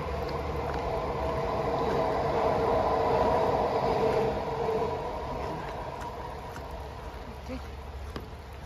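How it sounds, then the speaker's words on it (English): Sky train passing by on a quiet walking route, a broad rumbling rush that swells to a peak mid-way and then fades into the distance, steady and moderately loud. "It's the sky train."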